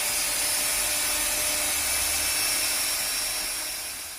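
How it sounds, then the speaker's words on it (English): A small Dremel rotary tool dresses up a repaired comb on a 64, 16-hole chromatic harmonica, giving a steady high-pitched grinding whine close by that tapers off at the end. "Next job now is to just to dress these up. Gotta get a little Dremel."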